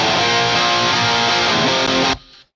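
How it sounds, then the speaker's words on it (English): Distorted electric guitar through a Marshall JCM Slash amp and stock cab without a drive pedal, a thick crunchy sustained chord held loud and close for about two seconds before cutting off abruptly into a brief faint tail. "And so the Marshalls by themselves sound like this."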